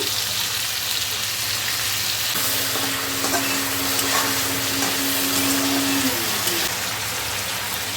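Potato, eggplant and bean pieces frying in a pan with salt for a fish curry, a loud, steady broadband sizzle that holds throughout with a brief tonal hum in the middle.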